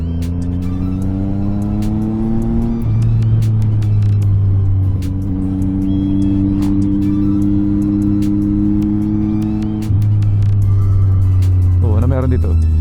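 A car engine hums steadily on a forest road, shifting pitch as it accelerates to overtake, with voices talking over the rumble throughout.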